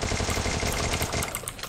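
Rapid gunfire from a 4v4 online shooter match, a dense burst of repeated shots filling the whole stretch, loud and close with no gaps of quiet.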